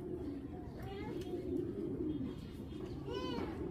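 A racing pigeon, a male bird, coos softly at close range in low rolling murmurs, with faint chirps rising through the quiet.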